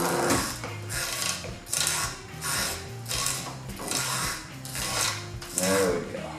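A sewing machine turned by hand crank runs stitches into upholstery for a custom Suburban interior, a series of rhythmic mechanical bursts of clattering, ratcheting needle and gear action, close and loud with short pauses between.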